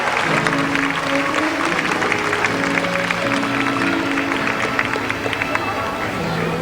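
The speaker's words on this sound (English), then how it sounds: "Let's give a big round of applause for her." A marine park audience claps for a baby killer whale, broad applause blended with crowd chatter and music tones, continuous throughout.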